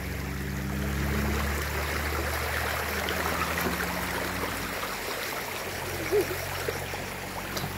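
Water flowing in a small stream or ditch, a steady rushing and trickling wash that stays close and continuous, mixed with a low rumble of background noise and no voices.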